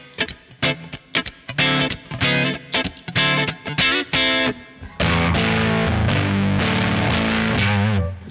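Electric guitar played through fuzz with clean tones on a Kemper Profiler: choppy, staccato strummed chords with gaps, then a loud sustained fuzzy chord ringing out, no talking.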